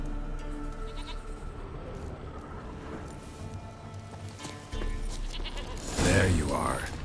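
Goat bleating in The Witcher 3 amid game ambience, a loud close bleat near the end after a stretch of quieter background sound, with someone talking in the clip.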